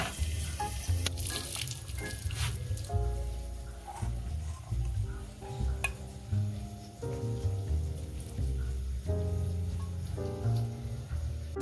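Steady sizzling of potatoes and capsicum frying in oil, a dense crackling hiss that continues throughout with occasional clinks and scraping.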